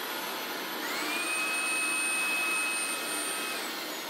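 A Eufy cordless vacuum cleaner runs steadily on its mid-suction setting, giving a close, even high-pitched whine with a faint tone that rises briefly and holds.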